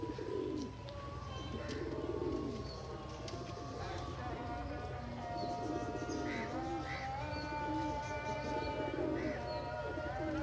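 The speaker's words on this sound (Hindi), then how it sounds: "ये टैडी गोल्डन क्रॉस में कबूतर है" A Teddy Golden cross pigeon coos in soft repeated rolling calls close by, with other bird chirps and a faint steady background hum.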